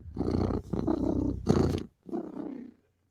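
A human voice imitates a cat's purr with low, rumbling, growly bursts, three or four in a row, close up.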